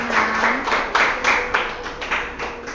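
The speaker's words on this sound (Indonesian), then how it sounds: "berikan aplaus untuk kelompok" A classroom group claps for their classmates, a run of brisk, fairly steady handclaps with a faint tone beneath.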